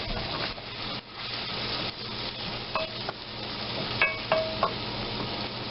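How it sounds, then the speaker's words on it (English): Finely minced onion sizzles and fries steadily in butter in a pan, a continuous close crackle with occasional stirring scrapes and small pops. "Now, we add our 1/3 cup of finely minced onion, which we will be cooking for about 3 to 4 minutes."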